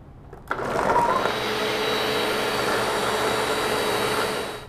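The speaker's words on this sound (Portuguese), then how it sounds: "Vamos bater esta mistura pelo menos 2 minutos para entrar bastante ar e ficar bem aerado." A blender starts with a click and then whirs steadily and loudly, beating a fruit popsicle mixture with coconut milk to aerate it.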